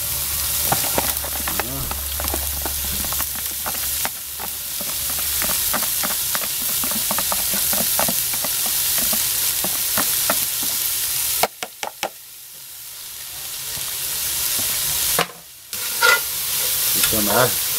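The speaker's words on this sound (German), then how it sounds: "Und jetzt kommen schon die 5 Zwiebeln und der Knoblauch hinein." Five onions and garlic fry in a Petromax ft6 cast-iron Dutch oven, a steady close sizzle broken by repeated scraping stirs and knocks of a utensil against the pot, with brief pauses.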